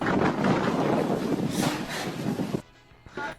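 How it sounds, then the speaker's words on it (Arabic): Loud gusts of wind buffet the microphone outdoors, a rough roaring rush that cuts off abruptly near the end, leaving quieter background sound and a brief final burst. "مع يبدا الفيديو ويبدا الريح"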